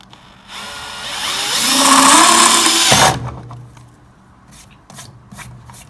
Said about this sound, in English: we're now going to switch to a 1/2-inch bit and drill that out the rest of the way